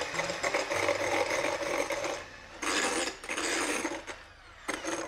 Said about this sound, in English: you need to whisk up your eggs.